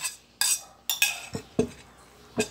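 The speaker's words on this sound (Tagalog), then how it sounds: "Tapos, halo-haloin" A utensil clinks and scrapes against a bowl while stirring a shrimp paste omelette mixture, giving about six or seven sharp, close taps at an irregular rhythm with quiet gaps between them.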